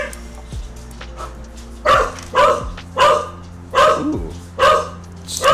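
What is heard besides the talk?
dog barking excitedly as owner's wife comes home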